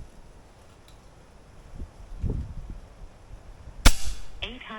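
A compact AirMaks Arms KRAiT .22 caliber pellet-firing bullpup air rifle lets off one sharp, loud shot near the end, preceded by quiet room noise and followed by a short metallic ring.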